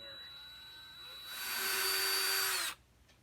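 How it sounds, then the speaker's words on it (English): A power drill whirs, rising in pitch and loudness for over a second as it bores a screw hole in an 1885 Gustav Becker wall clock, then cuts off abruptly into quiet. "I'm going to drill a hole here so I can put another screw back in"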